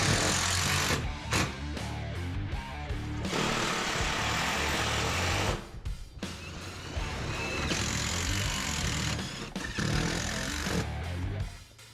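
A screw gun driving screws into a steel building panel during a window replacement: loud whirring bursts of driving alternate with brief pauses, recorded close up with no speech.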